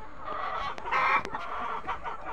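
Tiger-breed chickens cluck in a hatching room, with several short, bright clucks and calls close by over steady background noise.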